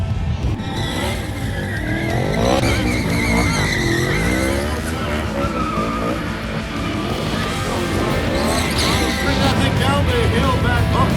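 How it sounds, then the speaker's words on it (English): A motorcycle spins its tires climbing a hill in a crowded parking lot near a NASCAR venue, a loud continuous squealing roar with revving engine, while people talk over it. "He's still going, sort of spinning the tires."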